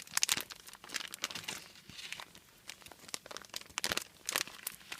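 A paper pocket letter is being folded, with close, irregular bursts of crinkling and crumpling paper and small pauses between them.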